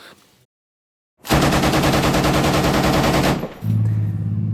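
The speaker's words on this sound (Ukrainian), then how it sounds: "Ти також отак от можеш пустити таку може, чергу." Loud, sustained burst of 7.62 mm machine-gun fire from the weapon on a Bradley fighting vehicle, about two seconds of rapid continuous shots after a short silence, followed by a steady engine drone.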